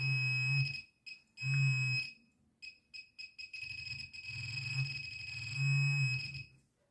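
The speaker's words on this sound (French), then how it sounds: "J'ai le son en bip, accompagné du vibreur en même temps." An Xp Mi-4 pinpointer metal detector gives repeated electronic beeps with its vibration motor running, sounding in short and longer bursts with brief gaps, close and fairly quiet.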